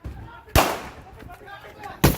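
Gunshots during a police drug-bust chase in Indonesia: two sharp, loud bangs about one and a half seconds apart amid shouting and commotion.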